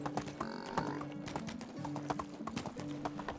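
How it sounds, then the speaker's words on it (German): Horse hooves clip-clop in a quick, regular rhythm while riding a white horse in the video game Medieval Dynasty, fairly quiet and close, with each step distinct and evenly paced. "Ich reite in die Stadt."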